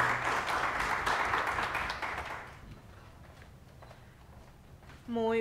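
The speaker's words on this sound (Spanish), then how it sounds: "Por favor, un fuerte aplauso para Delis Nacheliane y Yeliane Nieves." An audience at a student entrepreneurship track event claps in a strong burst that fades out after about two and a half seconds, leaving a quiet room before a voice begins.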